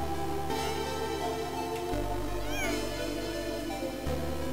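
A cat meowing in a video game cutscene, drawn-out meows over a steady loud game soundtrack and ambience that shifts in layers, with no clear talking.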